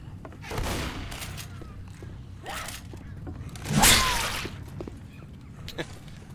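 Machine gun fire in the video game Left 4 Dead 2: several short bursts of gunshots spread across the stretch, one louder burst near the end, over low game ambience.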